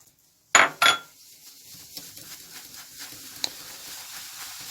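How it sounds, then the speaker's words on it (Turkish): Sugar and eggs for a cake are beaten with a whisk in a bowl: two sharp knocks open, then a quiet, steady run of rapid light tapping and scraping. "İlk önce şekerimizi ve yumurtayı bir güzel çırpacağım ben."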